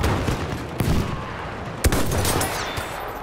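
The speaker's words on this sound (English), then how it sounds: "Oh, somebody just took a shot at me." Gunshot fired at the player in Battlefield 1 multiplayer: a couple of sharp cracks with a louder report near the middle, over continuous battlefield noise and distant gunfire.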